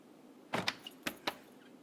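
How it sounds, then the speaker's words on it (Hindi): A door is opened indoors with a few quiet clicks and knocks of the latch and frame, close by against a hushed room. "दरवाजा खोलो"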